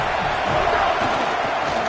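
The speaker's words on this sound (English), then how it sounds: "This crowd ready to make its presence known." A football stadium crowd at a Texas A&M game roars steadily, a dense wall of cheering and noise held at an even loudness throughout.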